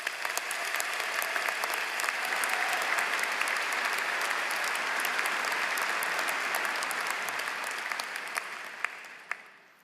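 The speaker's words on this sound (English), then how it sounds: "Let's give them a round of applause" An audience at the 2024 UNH Peter T. Paul College of Business and Economics commencement applauds in a sustained, dense wave of clapping filling a large hall, holding steady before tapering off at the end.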